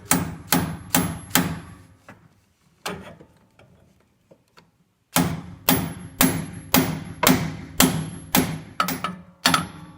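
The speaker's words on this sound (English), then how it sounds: "Bring the mallet in here." A mallet drives a bolt gripper down over a rusted, stripped nut: a run of four loud, sharp metallic blows, a few softer taps, then a steady series of about ten hard, evenly spaced strikes, close and without talk.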